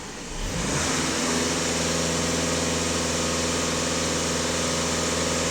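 A VW Passat B8 engine is brought up and held at a steady 2500 rpm, a loud, even drone with a clear tonal hum that stays constant after a brief rise at the start, no voices.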